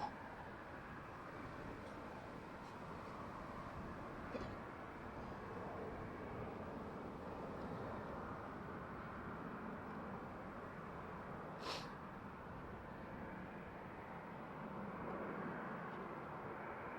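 A KLM Boeing 737-800 at Schiphol Airport, a low, steady engine rumble heard from a distance, faint and continuous with no talk over it.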